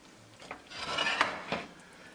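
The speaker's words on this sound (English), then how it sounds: "I'll bring the pot on the back burner" A cooking pot of fish biryani with salmon being shifted onto the back burner of a stove, a brief metallic scrape and clank of metal on the grate lasting about a second, close and moderately quiet, with no talking.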